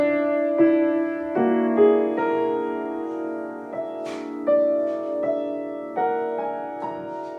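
Solo piano playing bars 9 to 12 of a piece, a short passage of gently struck notes and chords in a steady, unhurried rhythm, moderately quiet and close, with no talking.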